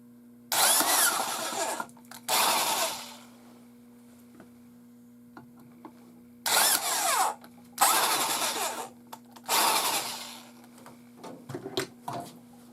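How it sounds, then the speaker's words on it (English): A power drill with a 5/16 inch bit bores holes into a box in several separate whirring bursts of a second or so each, with a steady hum and quiet gaps between them. "I'm now going to make them to their final size using a 5/16 inch drill bit."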